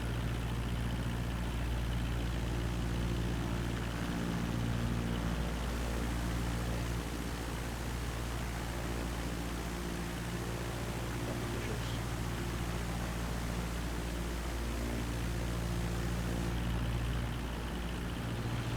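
Steady, loud aircraft engine drone with constant low hum from a plane cruising in Microsoft Flight Simulator 2020 near Barcelona, running unbroken throughout with no talk.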